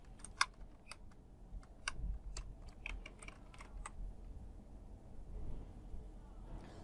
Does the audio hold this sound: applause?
no